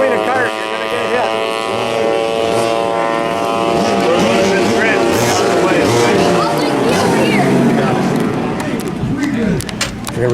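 Vintage dual-Yamaha racing kart engines firing up on the grid at a race in Norway, a loud, continuous buzzing two-stroke drone from several nearby karts, with people talking underneath.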